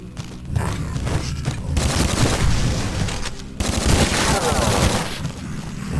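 Explosive barrels and lantern grenades blowing up in a retro-style shooter game, dense rumbling blasts and crackling gunfire running continuously and loudly, with a sharp new burst partway through.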